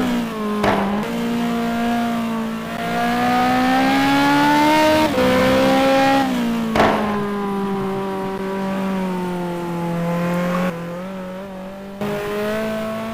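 A GT2 race car laps the Nordschleife, its engine droning loud and close with rising and falling pitch through gear changes and corners, with sharp shifts and brief drops in revs.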